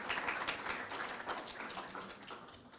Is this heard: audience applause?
yes